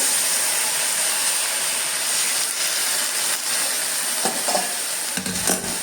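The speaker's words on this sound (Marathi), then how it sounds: "ह्यात आता मी गरम पाणी ओतते" Hot water poured into a pan of banana flower frying in its spiced tempering, giving a loud, steady sizzling hiss for several seconds, with a few sharp clatters near the end.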